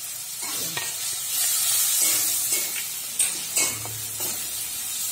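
Rice hits a hot pan with fish head while cooking muri ghonto, setting off a steady close sizzle and hiss, with a few scraping stirs and small clatters throughout.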